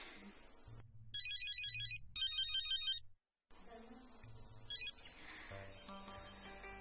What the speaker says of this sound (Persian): تلفنت زنگ میزند